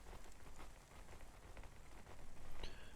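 Steady rain falls in the Cloudpunk video game, a dense, continuous hiss of drops on surfaces with no talking, the patter staying even and fairly close throughout.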